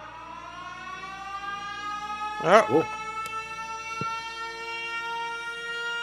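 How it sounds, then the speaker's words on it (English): A civil defense-style siren wails steadily throughout in the Factorio video game, a sustained rising tone. A short voiced exclamation briefly cuts in near the middle. "Whoa. Siren's gone off."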